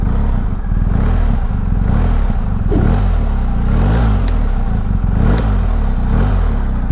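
A BMW R1250GS Adventure motorcycle engine runs steadily and loudly throughout, with rhythmic revs rising and falling; no talking.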